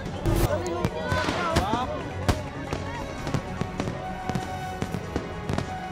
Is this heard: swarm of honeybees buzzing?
no